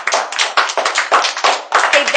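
Classroom audience clapping for a child named Anya after her presentation, a quick run of about ten close, bright handclaps in a steady rhythm.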